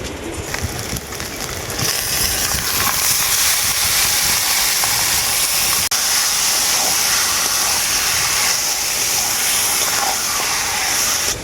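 Marinated goat meat dropped into a frying pan of fried ginger and garlic paste, giving a steady loud hiss and sizzle that holds evenly throughout.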